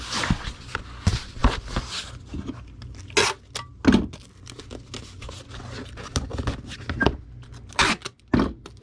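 Packing tape is pulled and pressed down to seal a Gemini mailer holding a comic book, with repeated ripping tape pulls, crinkling, and thumps of handling at close range.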